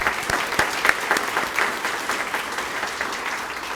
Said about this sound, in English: Let's give Stantec Architecture a round of applause.